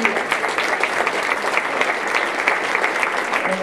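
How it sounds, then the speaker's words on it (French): An audience at a gathering in Châteauroux applauds steadily, a continuous close wash of many clapping hands with little variation, a faint voice surfacing at the very end. "Vous pouvez les applaudir."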